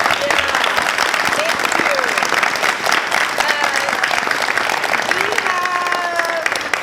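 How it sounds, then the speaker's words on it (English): A theatre audience gives sustained, loud applause after a post-show talkback, continuous clapping with scattered cheers and whoops across the whole stretch. "So, round of applause."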